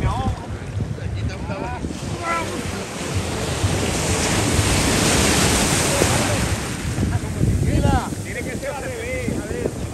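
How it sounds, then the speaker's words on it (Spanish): Rough, aggressive ocean waves break and wash at a beach in Puerto Rico, a loud continuous roar of surf with wind buffeting the microphone, while voices shout and talk over it. "las olas en Puerto Rico eran muy agresivas y malditas"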